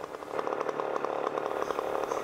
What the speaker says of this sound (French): Il y a un type dehors avec une tronçonneuse.